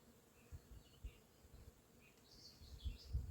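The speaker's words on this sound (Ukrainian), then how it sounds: "Тут реально бджоли шумлять." Faint, steady buzzing of bees in a flowering acacia thicket fills the air outdoors, with soft low rumbles and a few distant bird chirps, no voices.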